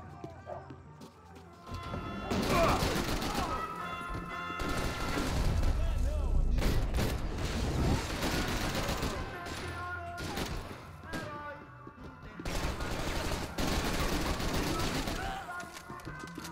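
Dense, chaotic gunfire in the video game Max Payne 3, with rapid overlapping shots and heavy booming bursts that stay loud and close throughout, plus game music and effects beneath.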